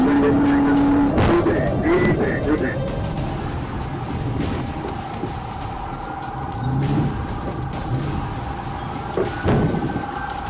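A fleeing SUV races at up to 95 mph, weaving sharply through turns and onto grass, its engine droning steadily with tire noise and bursts of skidding, loud and close throughout.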